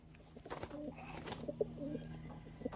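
Pigeons in a small breeding loft with stock birds give soft, repeated low coos with a few faint chirps and rustles, close by and steady over a low background hum.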